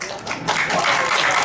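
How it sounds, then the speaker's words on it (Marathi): Audience applause at a national short film festival award ceremony in Kolhapur, greeting the film Chatka; dense, steady clapping rises after a brief quieter start and holds for the rest of the moment. "आणि टाळ्या वाजल्या पाहिजेत"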